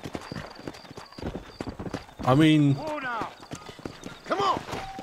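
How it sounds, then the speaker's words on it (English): Horse hooves clip-clop in a steady rapid rhythm in Red Dead Redemption, with a loud neigh partway through and a second whinny later, while someone speaks briefly. "The horses actually move rather decently."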